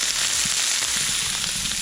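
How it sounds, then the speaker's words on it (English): Sausage patties sizzling in a frying pan, a loud steady crackling hiss with small pops throughout, no voices. "Now let's all just take one moment to enjoy this sizzle."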